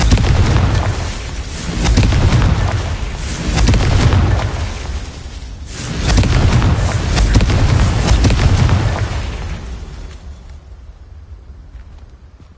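A Confringo fire-blast spell in the Hogwarts Legacy game bursts into several loud, rolling booms in quick succession, each swelling and fading before the rumble dies away near the end.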